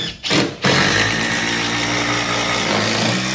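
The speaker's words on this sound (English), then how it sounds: "putting the last couple of screws in the cabinet" A power drill drives the last screws into a garage cabinet during an installation, a steady motor whine running almost continuously after a short stop-start at the beginning, close and fairly loud.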